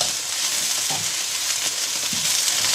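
Chorizo sausage sizzles and fries in a pot, a steady crackling hiss with occasional stirring clinks, close and fairly loud.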